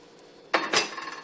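Hot water is poured onto powdered gelatin in a kitchen, starting with a sudden clink and splash that settles into a short, steady rushing stream.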